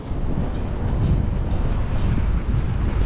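Strong wind buffets the microphone at Millers Point Lookout on Sydney Harbour, a loud, continuous low rumble with gusty swells throughout.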